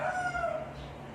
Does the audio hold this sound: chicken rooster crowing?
yes